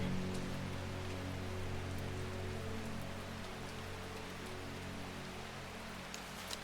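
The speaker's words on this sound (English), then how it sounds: "to get rid of this rain sound" Steady rain ambience from the video game Strange Horticulture, a constant faint patter of drops on a surface with a low hum underneath, no voices.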